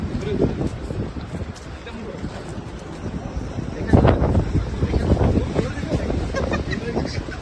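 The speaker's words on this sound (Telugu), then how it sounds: "గాలి వస్తుంది" Gusty wind buffets the microphone in low rumbling bursts, strongest in the second half, with voices talking underneath, outdoors in the UK.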